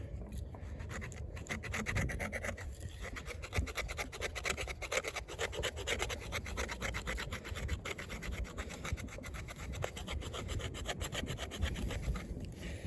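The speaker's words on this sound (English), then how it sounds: "Let's test the spine, see how that works out." Knife spine scraping along a piece of wood in steady, rapid back-and-forth strokes, a dense continuous rasping heard up close with no talk.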